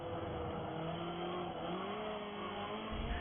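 A race car engine strains hard in a racing video game, its high revving tone wavering continuously with tire squeal layered in, loud and steady throughout with a lower rumble entering near the end.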